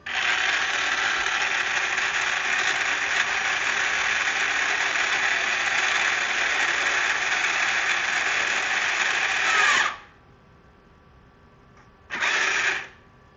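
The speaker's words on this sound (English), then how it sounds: "Now the piston is going to move out and it's going to try to find the home position." The piston motor of a Clack water softener control valve whirs steadily and close for about ten seconds, stops, then runs again in a short two-second burst.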